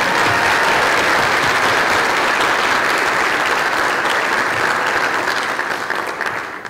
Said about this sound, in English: Let's have one more round of applause for all these soloists.